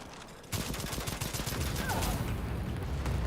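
In the shooter game Second Extinction, a sudden dense burst of explosions and rapid gunfire starts after a quiet half-second and continues loud and crackling to the end.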